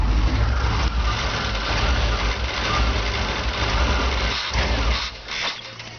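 Engine of a 1993 Chevrolet Suburban K1500, with a fault that stops it idling, held up with the accelerator pedal: a loud, steady, low rumbling run that dips slightly near the end, with no talk over it.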